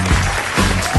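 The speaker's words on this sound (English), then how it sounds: "Big applause, as you can see." A short burst of crowd applause at a comedy roast, dense and loud, filling the whole moment.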